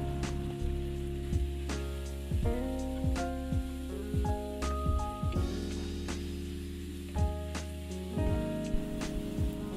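Boiled Maggi instant noodles hit a hot frying pan, giving a steady crackling sizzle with scattered pops and spits and occasional scraping stirs, close and moderately loud throughout.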